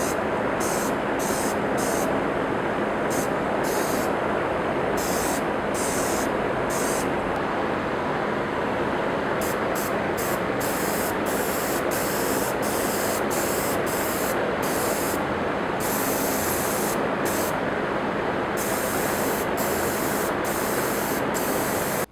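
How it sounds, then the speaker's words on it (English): An airbrush sprays expensive metallic sheen paint while painting an Alita Battle Angel figure, giving a loud continuous hiss broken by many short stops and restarts as the trigger is worked. "I like to put this in a little squeeze bottle so I can put it into my airbrush"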